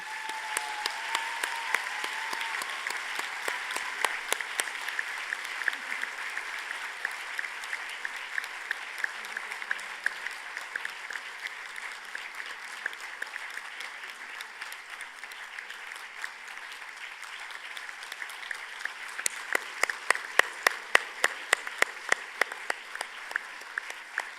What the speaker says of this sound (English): You can keep the applause going for this.